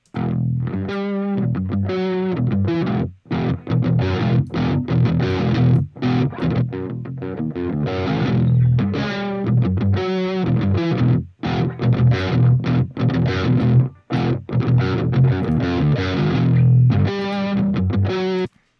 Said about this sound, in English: I just want more crunch, more distortion to make the sound more complex